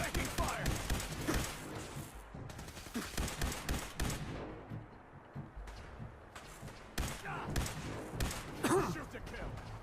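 Gunfire in the video game Fallout 4: dense bursts of automatic fire and single shots crackle through a firefight, rapid and irregular, with brief lulls and game voices shouting over the shooting.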